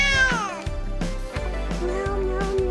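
A cat meows repeatedly, several clear, tonal cries in quick succession that are close and fairly loud, with a little background voice between them.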